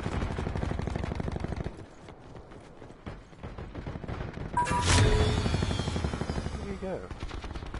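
Rapid automatic fire from the S6 Stingray gun in a video game, sustained rattling bursts with a louder, denser stretch near the middle and a sharp burst after, while a player talks briefly.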